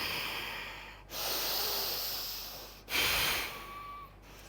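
Two forceful nasal exhalations from yoga belly breathing, each a long hissing rush of air through the nostrils, close and loud, separated by brief quiet gaps.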